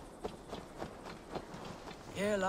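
Horse hooves in the video game Assassin's Creed Valhalla, a run of soft rhythmic clip-clops at a walking pace, ending as a voice begins to speak.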